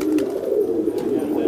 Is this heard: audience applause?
no